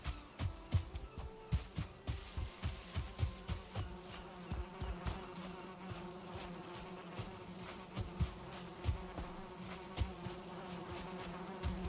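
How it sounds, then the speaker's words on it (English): Bees buzz steadily in the video game Valheim, a continuous droning hum with repeated soft pulses running throughout, fairly faint and with no talking over it. "I hear the bees. Do you hear them?"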